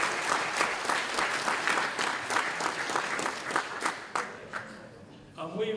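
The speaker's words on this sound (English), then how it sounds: "Give yourselves a round of applause." A convention crowd applauds a comics presentation with dense, steady clapping that thins out near the end, where a voice breaks in.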